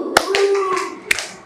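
A classroom of children clapping in quick sharp bursts, with a voice chanting and sustained vocal sounds between the claps.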